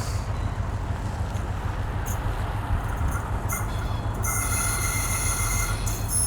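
A train pulling into a station in Sweden rumbles low and steady, then its brakes set up sharp high squeals that grow sustained and piercing as it slows to a stop.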